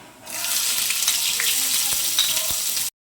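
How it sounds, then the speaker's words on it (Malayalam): Loud, close sizzle of mustard seeds and onion frying in oil, with a few sharp pops and crackles breaking through, then cutting off abruptly. "ആദ്യം കടുക് പൊട്ടിയതിന് ശേഷം ഉള്ളി ഇട്ട് കൊടുക്കാം"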